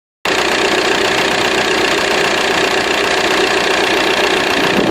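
A loud diesel engine runs and knocks steadily up close, a harsh, constant rattling drone with heavy vibration. The noise starts abruptly and continues without a break or any voices.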